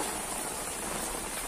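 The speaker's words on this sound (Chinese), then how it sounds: "就看这个雨水，我这一身都打湿了。" Heavy rain pours steadily during Yangtze River flooding in China, a dense, constant hiss of drops striking flooded streets and surfaces, close and unbroken throughout.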